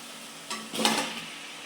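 Vegetables drop into hot, ready spice paste in a kadai for a rohu fish and ash gourd curry, giving a short burst of sizzling hiss and stirring that flares for under a second and then fades.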